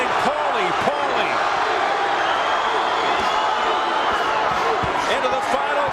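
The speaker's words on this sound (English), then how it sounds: "The crowd chanting, Johnny, Johnny. Another part of the crowd chanting, Paulie, Paulie." Boxing arena crowd at a WBA bantamweight championship bout in the final round, with rival sections chanting the two fighters' names, a dense, steady roar of voices under close commentary.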